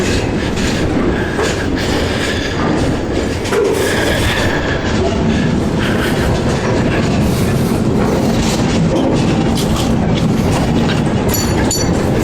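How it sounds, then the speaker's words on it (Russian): A moving freight train in Kazakhstan, heard from aboard, gives a loud continuous rumble with rhythmic clickety-clack of wheels over rail joints throughout. "Наш поезд поехал не в ту сторону"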